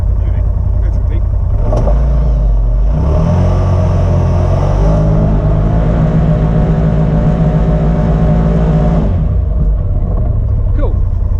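A Polaris RZR side-by-side climbs a hill off-road, its engine rumbling loudly and rising in a sustained rev for several seconds before easing off. Voices talk over the engine noise throughout.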